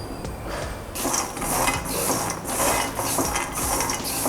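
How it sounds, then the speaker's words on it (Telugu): One cup of peanuts is dry-roasted in a kadai, with a close, continuous rattling and scraping as the nuts are stirred and tossed in rhythmic surges against the metal pan. "అదే బాండీలో 1 కప్పు పల్లీలు కూడా తీసుకొని ఫ్రై చేసుకుందాం"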